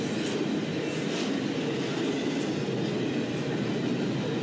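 A Norfolk Southern mixed freight train with double-stack cars rumbles steadily past close by, a continuous broadband roar of rolling cars with faint rail clatter and no voices.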